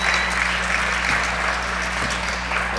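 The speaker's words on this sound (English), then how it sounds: "the Redford and Durfee fans giving Rochelle Lavoie a round of applause" Fans in a high school girls' basketball gym give sustained applause for an injured player being helped off the court, a dense wash of clapping over a low steady hum.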